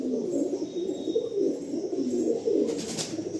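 Low, rolling coos from tournament-quality pigeons come in a steady, overlapping murmur close by, with no talk over them.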